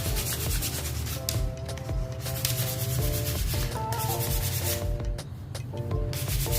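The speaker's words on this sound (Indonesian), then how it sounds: "Kita gosok itu teman-teman." An old kite found among old bamboo is rubbed by hand in steady back-and-forth scrubbing strokes, a close, continuous dry rasp, with a faint tonal hum running through the background.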